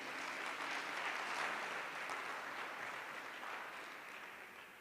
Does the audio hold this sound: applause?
yes